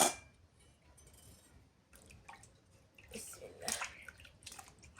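Water sloshes and splashes in a bucket as hilsa fish are washed by hand, with irregular close splashes and a few light clinks, louder bursts near the end, and faint background voices.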